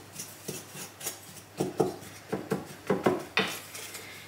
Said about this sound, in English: Now I'm just going to mix those bits together.